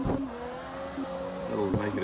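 Hummel drift car engine in CarX Drift Racing 2 humming at a steady, fairly faint drone with small rev changes, heard under quiet talk.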